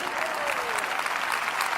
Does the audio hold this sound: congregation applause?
yes